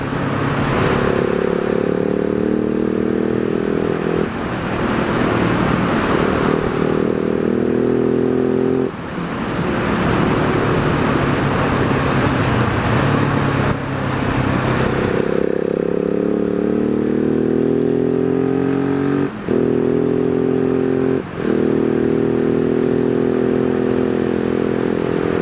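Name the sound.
Husqvarna 701 SM motorcycle accelerating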